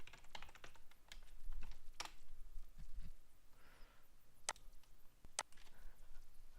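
A computer keyboard gives a few scattered keystrokes, faint and sparse, against a quiet room background.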